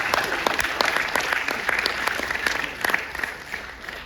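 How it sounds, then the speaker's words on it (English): An audience at a medical education programme on liver transplantation claps steadily, a dense patter of many hands with distinct sharp claps standing out, holding fairly loud throughout and thinning slightly toward the end, with no talk over it. "So I request all of you to give a great hand to Dr. Abhishek."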